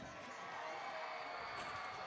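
An arena crowd at a robotics competition cheers and roars as one continuous broad wash of noise, fairly distant and steady throughout the short stretch.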